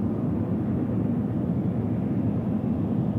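A Jetstar Boeing 787 airliner comes in to land at Sydney Airport at night, heard as a steady, broad roar of jet noise with a rumbling low end. It holds even and continuous throughout, with no voices.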